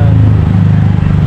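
A Yamaha Fazzio scooter engine starts and runs, giving a steady, loud low-pitched idle rumble close by for the whole moment, with no talk over it.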